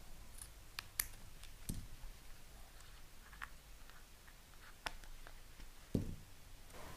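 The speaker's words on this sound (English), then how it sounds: "So this is the end where we cut the extra half a centimetre." Scissors trim the end of adhesive tape from a lampshade kit: a few sharp, close snips and clicks spaced apart over a quiet background.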